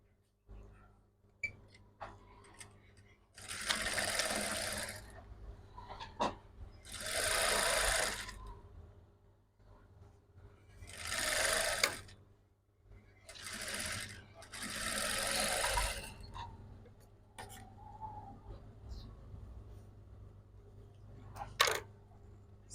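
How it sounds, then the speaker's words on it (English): A sewing machine stitches a cloth stay onto a bustier. It runs in four loud, close bursts of rapid whirring, separated by quiet pauses with faint handling noises. "So we are going to go ahead and stitch it"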